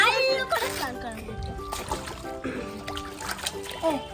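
Water splashes and sloshes in a toy swimming pool where dolls are bathed, in short bursts under children's voices talking and chattering throughout.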